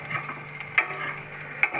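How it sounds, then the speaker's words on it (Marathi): Onion sautéing in a pan gives a soft continuous sizzle, broken twice by a spoon scraping and stirring across the metal, close and fairly quiet. "आता कांदा चांगला परतू द्यायचा."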